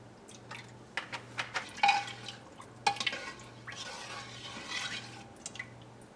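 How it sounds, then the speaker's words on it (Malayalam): Sesame oil is poured into a pot in a series of light drips and trickles over a soft, steady background hum. "കുറച്ച് നല്ലെണ്ണ ഒഴിക്കുക"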